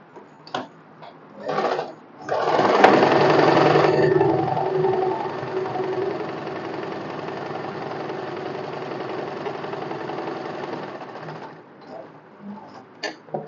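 A sewing machine stitching the outline of a front neckline on a cotton one-piece, a steady running hum for several seconds between short stop-start bursts, with no talking.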